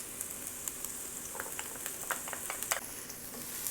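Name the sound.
onion and garlic sauteing in oil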